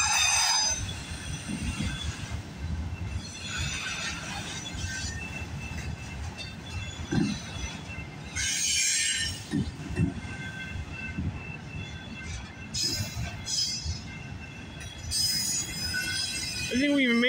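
CPKC 135 freight train with a single locomotive rolling past at Guelph Line in Campbellville, Ontario, a steady broad rumble of cars with wheel squeal and clatter, fairly near, continuous throughout in cold stormy weather.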